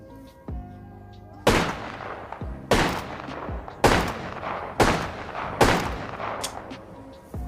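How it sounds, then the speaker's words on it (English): Five loud, sharp pops from a JAKKS Pacific Wingman toy pistol fired one-handed, spaced about a second apart with quiet gaps between shots, close and punchy. "we'll do some right hand shooting, like dominant hand shooting"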